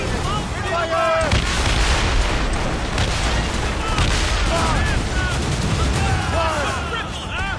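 Ship cannons fire during a naval battle in Assassin's Creed Rogue, heavy booms and rumbling blasts over churning sea noise, with shouted voices mixed in throughout.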